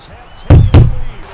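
Two loud, heavy bangs on a door, about a quarter second apart, stand out sharply against a low background hum.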